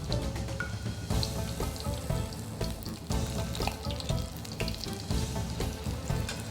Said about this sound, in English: shake the pot gently to prevent the fillets from sticking to the bottom and darkening in color.